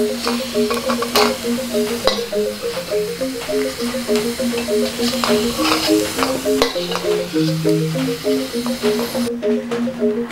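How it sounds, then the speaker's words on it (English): Shallots frying in oil for a sweet spicy prawn and bitter bean sambal, a close, constant sizzle and crackle heard alone, over soft background music. "Now fry the shallot until slightly golden brown."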